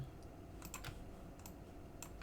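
Keys tapped on a computer keyboard while modeling in 3ds Max, a few quiet, scattered clicks over a steady background hiss.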